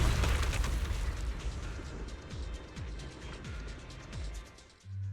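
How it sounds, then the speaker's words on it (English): A video game explosion in Zenless Zone Zero opens with a loud, deep rumbling blast that slowly decays into crackling debris and low booms, cut off by a brief thud at the end. "Kaboom."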